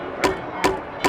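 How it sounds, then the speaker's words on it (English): Someone hammering on something nearby: three sharp, evenly spaced knocks about 0.4 seconds apart, each one loud and distinct against a steady background hum. "It's probably someone hammering on something now I think about it."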